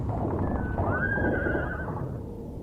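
Horses whinny loudly and close, one drawn-out neigh rising and falling over a low rumble of hooves and carriage noise as a horse-drawn carriage comes to a halt.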